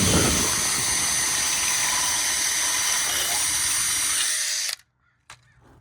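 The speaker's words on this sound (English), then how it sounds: "want to get your 5/16 holes drilled" A power drill bores 5/16 holes into the pinch weld of a Sprinter van, whining steadily and close for several seconds before stopping abruptly, followed by a brief clunk.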